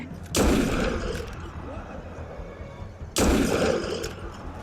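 Two bursts of loud video game gunfire, each a sudden blast followed by a rumbling tail, separated by a few seconds of quieter background noise.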